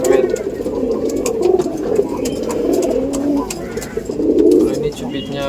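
Pigeons kept by a bird seller in Brebes, Central Java coo in repeated low, throaty bursts close by, with rustling and other handling noises around them.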